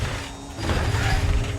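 Machinery being dragged in the Guardians of the Galaxy video game, a grinding mechanical scrape with ratcheting, creaking clanks that swell slightly as it moves.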